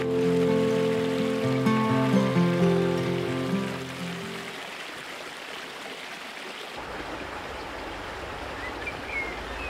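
An icy mountain stream rushes over rounded river stones, a steady broad wash of flowing water, first under music that fades after a few seconds, then heard alone.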